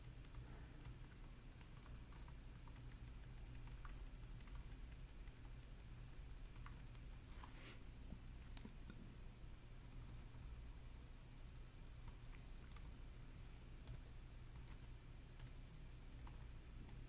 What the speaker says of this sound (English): How's the hard drive clicking? Does that show up?